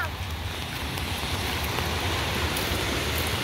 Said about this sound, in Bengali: এখানে সমুদ্রের ঢেউ কত।